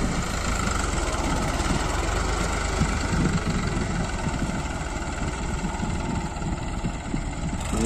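A New Holland 5500 55 hp tractor fitted with a blade plough idles at a steady, close rumble, a continuous low engine drone that never rises or falls.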